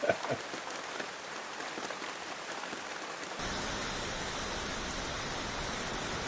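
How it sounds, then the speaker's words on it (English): Steady rain pours down at a rustic log cabin deer hunting camp, an even broadband hiss that thickens into a denser, louder wash partway through, with no voices. "here I sat watching it rain one more time"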